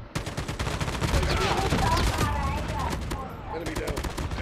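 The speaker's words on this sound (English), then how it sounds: "Somebody's shooting. Somebody's sniping." Video game battle with rapid bursts of gunfire and sniper shots, loud dense volleys crackling continuously throughout while a player's voice talks over the shooting.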